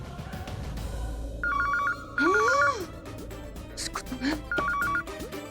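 An electronic phone ringtone trills in repeated short bursts while a person sighs and groans over it.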